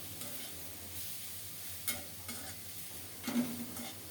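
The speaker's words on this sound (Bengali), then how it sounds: "এদিকে বাঁধাকপিটাও সুন্দর মতো ভাজা হয়ে গেছে" Cabbage fries in a pan with a continuous, moderate sizzle, broken by a couple of sharper stirring scrapes.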